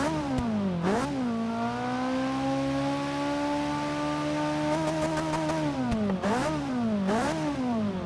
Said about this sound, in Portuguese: Vamos ouvir a sinfonia do motor da 458 Itália.